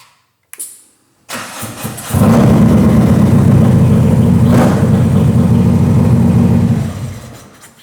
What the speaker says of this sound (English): And also make sure that the bike starts.